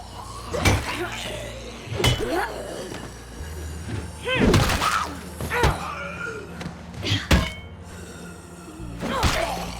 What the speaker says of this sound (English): Wow, these heavy weapons sure are noisy.